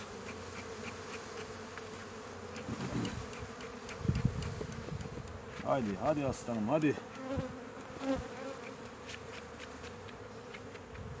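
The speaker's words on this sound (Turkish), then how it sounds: "Şu an yine buna arı var, fazla arı var." A dense swarm of honeybees buzzes steadily up close, while someone speaks briefly over the drone.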